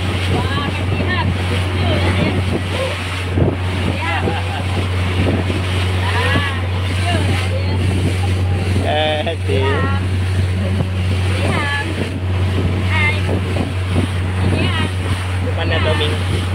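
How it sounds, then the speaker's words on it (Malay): A motorboat cruises at sea off Batu Ferringhi, Penang, its engine a constant low hum under wind and splashing water, while people talk and exclaim over it throughout. "Kita ada boat lagi yang juga bersiar-siar"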